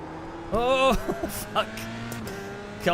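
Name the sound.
race car approaching from behind in iRacing video game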